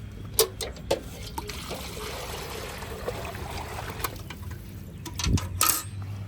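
A Kankrej cow drinks water on a farm, with soft liquid sloshing and trickling, a few louder splashy bumps and a brief voice in the background.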